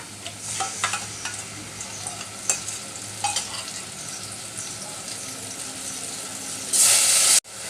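Spice paste of red chili powder, turmeric and salt goes into fried onions in a pan while curry for bele fish is cooked, giving steady sizzling with stirring scrapes, then a sudden loud burst of hissing near the end.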